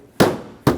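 A headlight being tapped into place on a 2006-2010 Hyundai Sonata, two sharp, close knocks about half a second apart, each decaying quickly, with no voices.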